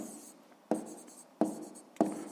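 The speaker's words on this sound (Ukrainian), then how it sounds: "Давайте я тут напишу" Handwriting on paper while a math problem is worked out: three crisp pen strokes land at even intervals, each a sharp scratch that fades, close and soft with no voices.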